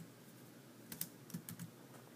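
Typing on a computer keyboard while entering a chart title in a spreadsheet, a short burst of soft, close keystrokes after a near-silent pause, with no voices.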